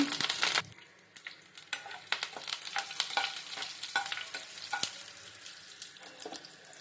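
Crackling sizzle of curry leaves frying in hot oil, with repeated scraping and stirring sounds close by.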